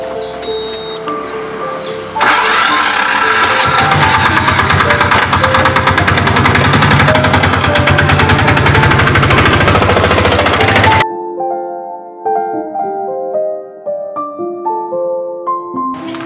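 A motorbike engine starts abruptly and runs loud and rough for about nine seconds, close by, with music playing before and after and no talking.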